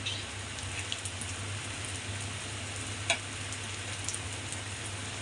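Soft, steady crackle of ghee sizzling in a pan, with a few faint pops over a low continuous hum.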